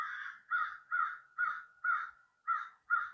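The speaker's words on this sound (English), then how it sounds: "No, the crow." A crow caws in a steady series of seven harsh calls, evenly spaced and fairly loud, heard alone against a quiet background.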